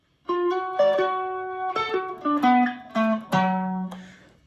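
Electric guitar lick from a solo (5/10/1978 version), a string of separate plucked notes moving between held pitches, played alone and close with no talk.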